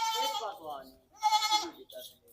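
Young goat kids on a small farm bleat in quick, high, wavering cries, two bursts with a short gap, fairly close, with a person's voice mixed in.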